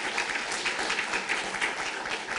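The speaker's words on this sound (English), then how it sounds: "Round of applause." An audience claps together at an awards ceremony, producing dense, steady applause that stays loud and even for the whole short stretch.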